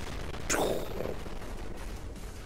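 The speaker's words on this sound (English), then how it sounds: "Cool robots do walk away from explosions." One sharp explosion bursts in the Gigantic Army robot shooter game, followed by a smaller blast about half a second later, then a low rumbling backdrop with no talk.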